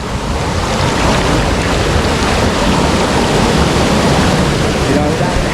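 A powerful waterfall on a mountain river route, swollen with heavy flow, pours down in a dense, continuous roaring rush, loud and close, with no breaks and no voices.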